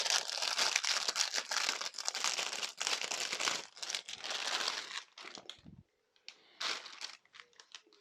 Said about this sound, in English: Let's just get that out of the packaging and take a look at that.